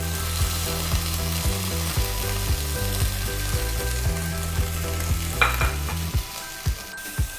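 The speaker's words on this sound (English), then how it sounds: "Saute them all together until everything is mixed properly." Spices, garlic and onions sautéing together in oil, a continuous close sizzle with a soft rhythmic thumping of stirring and scraping against the pan, steady and loud with no talking.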